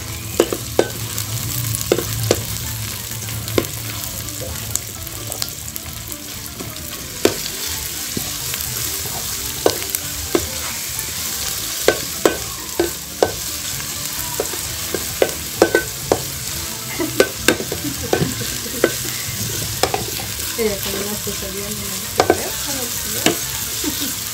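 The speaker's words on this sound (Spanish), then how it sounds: "en un sartén vamos a sofreír lo que es la cebolla" Onion sautéing in a frying pan gives a steady sizzle and frying hiss throughout, broken by frequent sharp clicks and scrapes of stirring.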